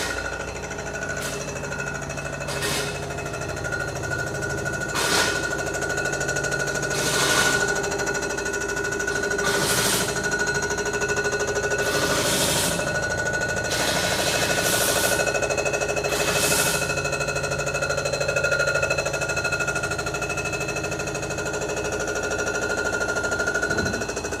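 A machine bores the cylinders of a Kubota F5802 engine block with a steady mechanical drone and tonal whine, punctuated by roughly a dozen periodic sharper bursts of chatter, fairly loud and with no talking.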